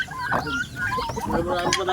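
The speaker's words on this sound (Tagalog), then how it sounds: "Dito may manok na isa," A large chicken clucks in a coop in short, repeated calls, close and fairly loud, with a person talking over much of it.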